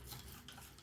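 A spoon stirs salt water in a small glass, a steady close scraping and swirling rub that continues without pause and without talk.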